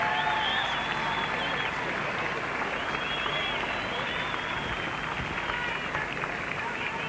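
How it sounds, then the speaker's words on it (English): Cricket crowd at a Test match in Cape Town applauding South African batsman Neil McKenzie as he walks off, a broad, continuous wash of distant clapping from the stands with a commentator's voice over it. "He's got an applause from the crowd, a big applause actually."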